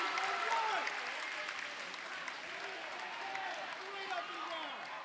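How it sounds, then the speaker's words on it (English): Basketball crowd in a gym at a Cougars versus Springfield Lutheran game, a steady, fairly distant roar of voices with scattered clapping and rising tones of protest, sustained for several seconds. "Crowd does not like that."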